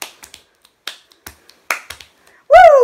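Sharp finger snaps and claps in the Boom Snap Clap hand game, a quick uneven run of close, crisp hits, followed at the end by a loud sung vocal cry.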